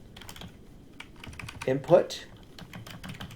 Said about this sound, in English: I'm going to type in name equals